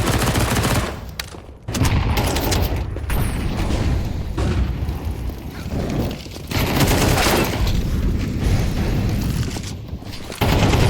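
Gunfire from a competitive esports shooter match, with bursts of rapid shots, heavy booming reports and brief gaps between exchanges, loud and close throughout with no voices.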